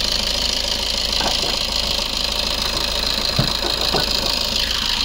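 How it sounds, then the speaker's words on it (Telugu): A 2015 Maruti Ertiga ZDI diesel engine idles in a steady, even drone with a faint knocking texture, heard close and alone at a constant level. "బండి స్టార్ట్ చేసినాక. ఒకసారి చూడండి ఎంత సైలెంట్ ఉందో సౌండ్."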